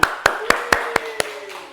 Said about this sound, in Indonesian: Betul, beri tepuk tangan.